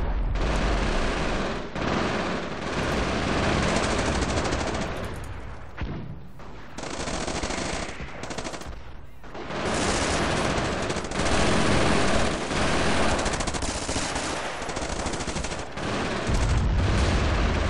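Loud, dense machine gun fire and gunfire in Company of Heroes, sustained rattling bursts with short pauses, heavy and close for most of the stretch.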